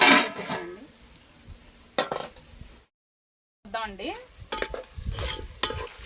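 Chicken curry being stirred on a wood-fired stove, with scattered spoon scrapes and clinks against the pot over a soft sizzle, cut by a brief full silence partway through and a short squealing tone near the middle.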